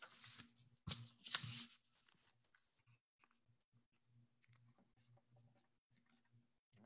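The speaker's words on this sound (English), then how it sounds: "Now I'm gonna take this point and I'm gonna fold it down to here" Sheet of paper being creased and folded into a paper airplane, a few crisp rustles and scrapes at the start, then faint sparse handling sounds in near silence.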